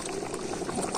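Water draining off a pot of cooked biryani rice, a steady bubbling, splashing liquid rush that runs continuously and close up without a break.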